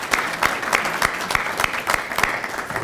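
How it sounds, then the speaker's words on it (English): Audience applause at a Regional Transportation Authority event, moderately loud with a few sharp, regularly spaced claps standing out above the steady clapping. "Give him a round of applause anyway."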